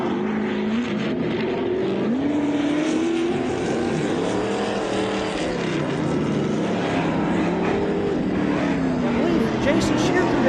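An off-road race vehicle tears around the course on a lap at the 2017 MetalCloak Stampede, engine revving up and down in loud surging waves with continuous rumble, while a commentator talks over it.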